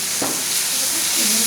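Baba ganoush sauce stirred in a hot pan makes a loud, close, continuous sizzling hiss, with a brief scraping sweep near the start and no talking.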